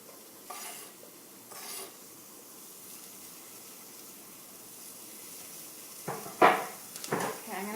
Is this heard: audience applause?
no